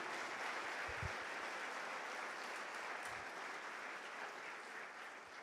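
A church congregation applauds during a sermon, a dense, steady wash of clapping that holds loud throughout and slowly eases near the end.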